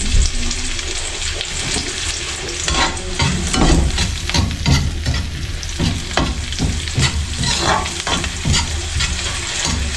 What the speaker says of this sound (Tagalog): Pagbabrownin natin tong sibuyas ng bahagya.